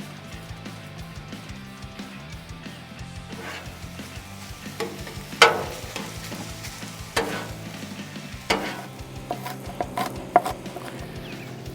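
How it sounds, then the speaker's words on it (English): Ground beef sizzling on a Blackstone griddle, a steady crackling fry broken by sharp scrapes and taps of a spatula stirring the meat, close and moderately loud with no talking. "Let's start out by throwing a pound of ground beef down on the griddle"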